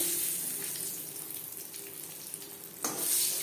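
Potatoes frying in mustard oil make a steady, close hiss and crackle, with a brief louder rush of sizzle near the end.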